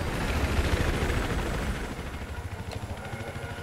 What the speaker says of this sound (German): Der Heli bedeutet nichts Gutes.